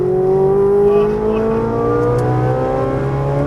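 A Ferrari 458 Italia accelerates hard on a racetrack at Las Vegas Motor Speedway, its engine note climbing steadily in pitch, loud and close from inside the car with no gaps.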